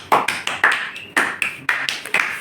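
Students in a classroom clapping together loudly in sharp, uneven bursts, around ten strong claps spaced across a couple of seconds, close and punchy.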